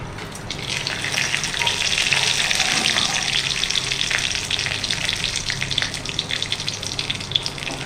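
Cinnamon and cloves fry in oil in a kadai for white kurma, giving a loud, continuous crackling sizzle with dense bubbling that holds steady throughout, close up and without talk.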